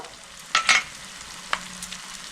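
Turmeric, cumin, chilli and Kashmiri chilli powders with a little water stirred in a pan for a Shankar fish curry, heard as a couple of brief close scraping sizzles over a quiet background.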